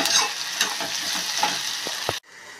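Onions with salt are stirred in a hot pan, a loud close sizzle with scraping strokes of the spoon, ending in a sudden cut to near silence just before the finish.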